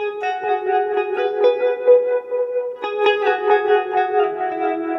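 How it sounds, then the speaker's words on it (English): Clean electric guitar notes shimmering with lush chorus from a Strymon Deco pedal, ringing steadily and moderately loud with a slight echo tail, no talking. "That'll give me some chorus if I want that too"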